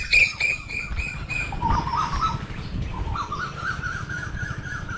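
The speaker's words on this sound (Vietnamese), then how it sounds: "Con sáo với con hú." Myna and other birds calling in the open, with a steady chirping and a rising whistled call under a constant rustling background; a single wing flutter or coo may be mixed in, with no talking.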